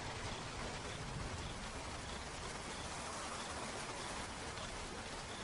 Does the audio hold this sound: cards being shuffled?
no